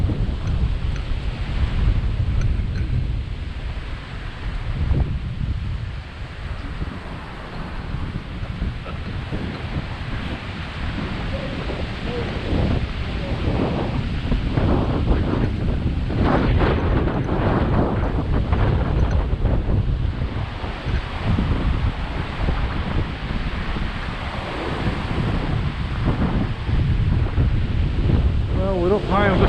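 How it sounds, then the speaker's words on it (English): Strong gusting wind on exposed high ground during a Christmas walk in Cumbria buffets the microphone in heavy low roaring bursts, continuous and loud, with faint voices partly masked underneath. "Sorry about the wind noise,"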